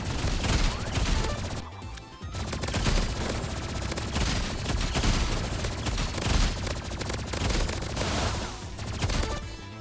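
Rapid energy pistol fire in the Roblox game Rivals, dense bursts of shots layered over constant game sound and music for the whole stretch, loud and close with no talking.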